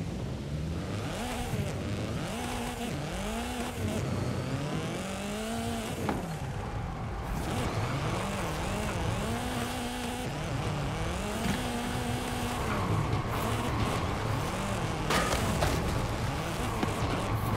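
A race car engine in Forza Horizon 5 revs and accelerates through repeated rising and falling gear sweeps on a drift run, loud and close, with tire noise underneath.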